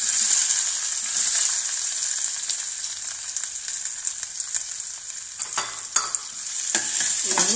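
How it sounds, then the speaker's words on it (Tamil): Sliced onions with fennel seeds and curry leaves fry in hot oil for an egg gravy, giving a steady close sizzle with scattered stirring scrapes and clatter near the end. "பொன்னீரமாக ஆகிற வரைக்கும் நல்லா வதக்கணும்"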